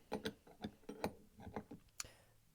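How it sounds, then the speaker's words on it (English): A 19mm wrench tightens a brass flare fitting on a generator's propane conversion, making a quick run of faint metallic ticks and ratcheting clicks, close by and quiet, with one sharper click near the end. "hand tighten it first, come in with your 19mm wrench"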